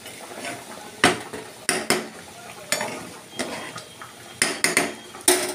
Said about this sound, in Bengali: এই ঝোলটা আমি এই মাছের মধ্যে ঢেলে দিচ্ছি। দিয়ে আমি একটু নাড়িয়ে দেব।